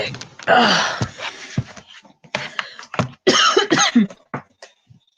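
A series of harsh coughs and throaty sounds, close and fairly loud, broken by short pauses and a few gasping breaths.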